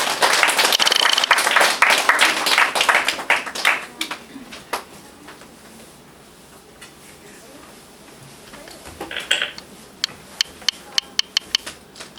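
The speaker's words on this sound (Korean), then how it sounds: "우리 하나님께는 영광의 박수, 우리 전도사님께는 격려의 박수로 환영해 주시기를 바랍니다." A church congregation at a graduation worship service applauds to welcome a preacher, a dense burst of clapping that fades into a quieter room, followed by a few scattered sharp claps near the end.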